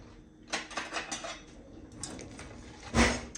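Someone fetches a bowl in a home kitchen: ceramic and cutlery clink and rattle in a quick flurry, then a single louder clunk as the bowl is set down, close by.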